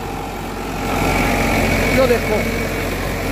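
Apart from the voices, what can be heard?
Eicher 551 tractor engine running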